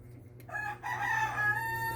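A rooster crows once nearby, a loud drawn-out call that starts after a brief quiet moment and holds to the end over a low steady hum.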